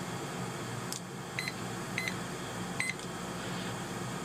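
An electric 10-in-1 multi-cooker gives a few short, faint electronic beeps as its start button is pressed, spaced about half a second apart over a steady background hum.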